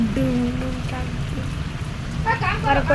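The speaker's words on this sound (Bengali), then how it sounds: "কত জোরে বৃষ্টি হচ্ছে" Steady heavy rain hisses and patters throughout, with voices and faint music-like tones mixed in over the downpour.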